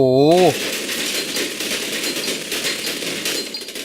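Rapid gunfire in the sandbox game Garry's Mod, a dense, continuous crackle of shots running almost the whole clip at steady loudness, with excited talk over the start.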